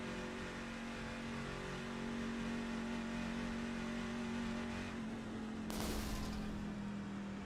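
A race car in the iRacing simulator drones at steady revs from an onboard view, then gives a sharp burst of exhaust pops near the end, with no talking.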